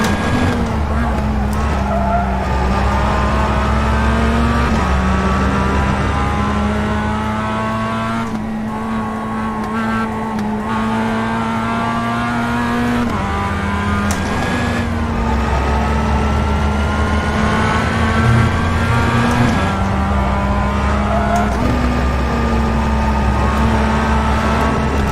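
Mazda MX-5 race car engine in iRacing, a steady droning note that rises and drops with gear changes and throttle, close and loud throughout, with occasional tire noise and a voice talking over it.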